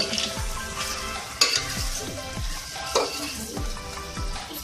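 Masala bhindi with green coriander being mixed in a hot pan, a steady close sizzle broken by rhythmic spatula scrapes and a few sharper clinks, no voices.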